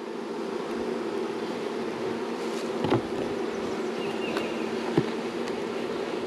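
Agitated honey bees swarm around a freshly opened hive, a steady dense buzzing close by with a few louder bees passing near.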